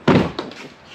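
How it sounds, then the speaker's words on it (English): A door at the back of a new trailer slams shut with one loud, close thunk, followed by a short rattling echo that fades quickly. "the doors are loud"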